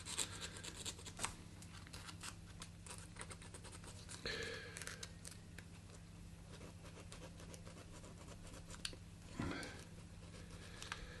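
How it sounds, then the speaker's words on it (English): Quiet, steady rubbing and rasping of sandpaper on wooden edges goes on continuously, with occasional light knocks and scrapes in between. "start sanding all the edges"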